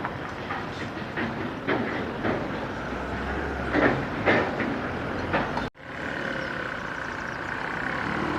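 A train runs along a railway line in Morocco, its rhythmic wheel clatter heard at moderate distance with repeated clicks over a steady rumble, dropping out briefly and then continuing more quietly.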